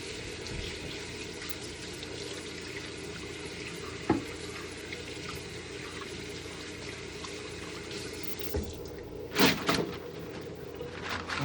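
Parts of a Bistro 10 Tall coffee machine rinsed under running water, a steady, moderate stream with a few knocks and clatters as pieces are handled near the sink.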